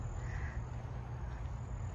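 A single faint caw from a crow in a park sounds over a low, steady rumble of outdoor background noise.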